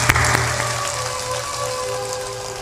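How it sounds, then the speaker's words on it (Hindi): A crowd at a spiritual discourse gathering claps with hands raised overhead, a dense, steady wash of applause that fills the hall from start to finish at a fairly loud level. "ऊपर ऊपर ताली भी बजा दो।"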